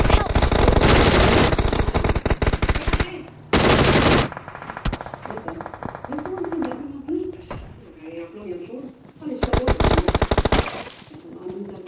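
Loud automatic gunfire in the mobile battle royale game PUBG Mobile, long sustained bursts separated by pauses, with players' voices chattering in between and over the shots.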